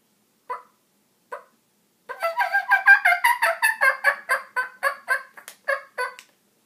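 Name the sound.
turkey call imitating hen clucks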